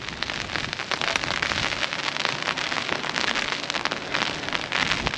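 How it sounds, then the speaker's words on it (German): Rain falls on surfaces during a boat trip on Lake Garda, a dense, steady patter of drops that stays close and loud with no talk. "es regnet, es regnet."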